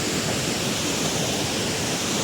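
A mountain stream on the Annapurna Base Camp trek between Bamboo and Deurali rushes in a loud, unbroken roar close by, with no voices heard.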